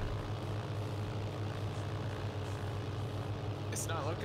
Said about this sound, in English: Krupp's engine sounds very quiet.